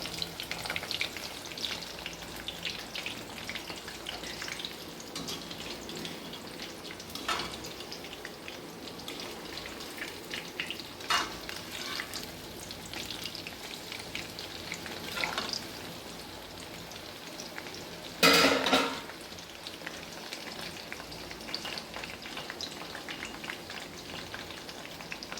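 Onion pakoda frying in hot oil for a crisp Tamil snack: a dense, continuous sizzle with occasional louder bubbling bursts and a brief clatter of stirring, close and without any voices.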